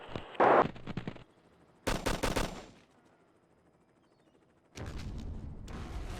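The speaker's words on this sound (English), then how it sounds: "Lots of explosions going on over there." Gunfire and explosions in the Operation Flashpoint combat video game, arriving as three loud, dense bursts of rattling shots and blasts separated by quieter stretches, with no talking.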